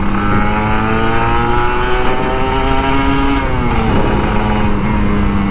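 An old Kawasaki Ninja RR 150 motorcycle revs loudly up close, its engine pitch climbing and dropping in sweeping surges with a brief throttle-off dip, alone without speech.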